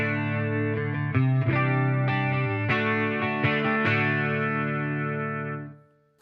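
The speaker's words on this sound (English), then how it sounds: "So we'll start off with the reverb here." An electric guitar plays a run of plucked notes and chords through a Fender Champion 50XL amplifier's reverb, each note ringing out with a reverb tail before fading away.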